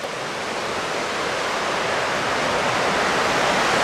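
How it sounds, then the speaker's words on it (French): Small waterfalls at Moulin du Saut pour down steadily, producing a dense, continuous broadband rush of falling water that stays loud and even throughout, with no voices. "Des petites cascades comme ça."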